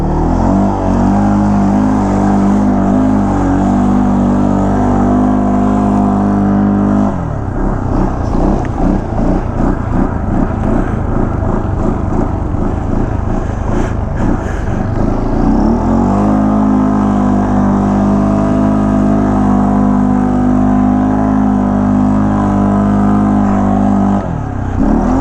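A truck on a snirt run over snow-and-dirt roads revs hard and drives past, with a loud sustained engine drone, a surging rev in the middle, then a return to a steady close roar.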